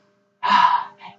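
A sharp inhalation during a yoga warrior sequence, one strong breath in close to the microphone, followed by two shorter, softer breathy bursts.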